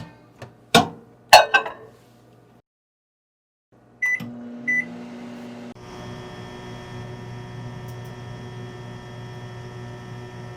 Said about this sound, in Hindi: पहले 1 मिनट इसको हम माइक्रोवेव में रखेंगे।